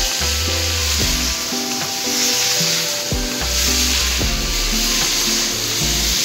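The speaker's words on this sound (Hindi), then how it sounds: "कुंदूरी ताकू टिके तेल रे टिके भजा करिवे" Ivy gourd frying in a little oil, a constant bright sizzle under repeated, rhythmic scraping and knocking of a spatula against the pan, close and fairly loud.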